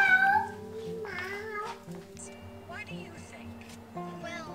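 A child imitates a cat's meow in a playful, sing-song voice among other children's chatter, with a couple of short meow-like calls standing out over steady background noise.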